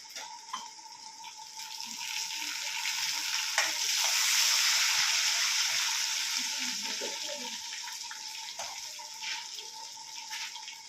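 Curry leaves rinsed under a running kitchen tap, a steady hissing splash of water that swells in the middle and fades, with faint clinks and rustles, no talking.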